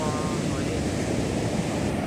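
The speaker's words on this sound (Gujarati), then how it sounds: "તો હાલમાં અત્યારે દરિયામાં ફૂલ તોફાન થઈ ગયેલા" A stormy sea roars with rough, heavy waves, a loud continuous wash of surf mixed with strong wind buffeting the microphone. A voice is faintly present under the steady roar.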